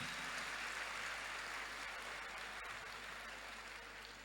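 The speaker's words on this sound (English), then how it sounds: "A clap for her, please." A conference audience at a youth empowerment summit claps for a special guest, producing steady, dense, sustained applause that fades slightly toward the end, with no voices.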